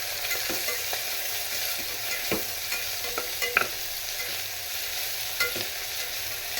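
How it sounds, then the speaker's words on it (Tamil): Asafoetida sizzles steadily in tempering oil in a pan, a soft crackling hiss with a few sharper pops, close by and with no talking. "தாளிப்பில் கொஞ்சமாக பெருங்காயம் போட்டுக்கலாம்"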